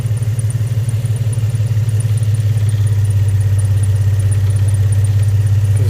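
A 2003 Infiniti G35 engine running with a misfire, a loud, close, steady low drone with a faintly uneven pulsing rhythm and a ticking clatter on top, with no voices.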